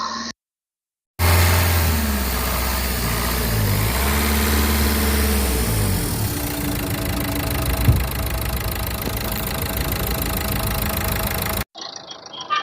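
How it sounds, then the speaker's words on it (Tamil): A diesel engine in an 8-seater car idles with a steady, loud, close rumble, briefly revved near the start and settling back to an even idle, with no talk. "ஸோ வாங்க வண்டியோட சவுண்ட் கேளுங்க"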